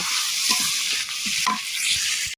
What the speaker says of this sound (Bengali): আমি কিন্তু এই মাছ দুই পিস কিন্তু একদম ভেঙে চুড়ে দেবো এভাবে কিন্তু ভেঙে চুড়ে দেবো আর মরিচ পেঁয়াজও কিন্তু ভালো করে ভাজা ভেজে নিব